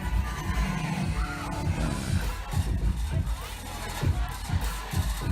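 A packed crowd in a nightclub in Japan, yelling and cheering in a dense, continuous roar with rhythmic thumping beneath it, loud and close all around.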